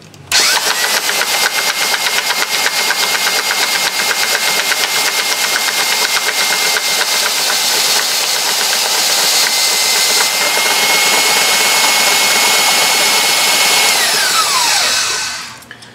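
A Milwaukee cordless drill cranks a hydro oil-locked 2011 Yamaha 15 HP four-stroke outboard with the plugs removed, a loud continuous whirring drone with steady whine, held for about fourteen seconds before winding down.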